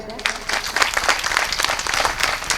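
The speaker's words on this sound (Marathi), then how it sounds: "खऱ्या अर्थाने सर्व संयोजकासाठी एकदा टाळ्या होऊ द्या." An audience at a women's kirtan during an Akhand Harinam Saptah in Ladole claps for the organisers, a brisk burst of applause that starts after a brief pause and keeps going at an even, lively level.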